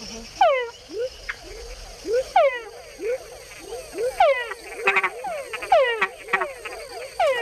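Male frogs in the Panama rainforest call repeatedly, a chorus of whining calls with added chuck notes, close and clear, overlapping in irregular bursts against a faint insect background.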